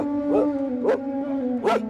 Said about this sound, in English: Nice puppy.